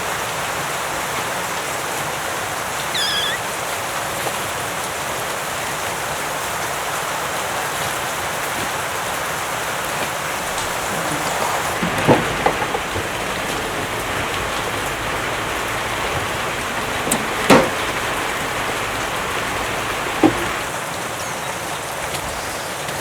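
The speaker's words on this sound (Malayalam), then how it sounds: "മഴ നന്നേ കുറഞ്ഞ പോലെയുണ്ട്." Rain falls steadily outdoors as a dense, even hiss, with a few faint knocks and drips standing out near the middle; no voices are heard.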